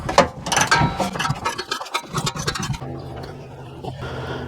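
A socket wrench with an extension breaks loose the lower rear shock bolt on a 2018 GMC Yukon XL. Close ratcheting clicks and metallic scraping come in uneven bursts, then a quieter stretch of light mechanical noise.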